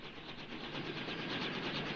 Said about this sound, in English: It's a helicopter moving away.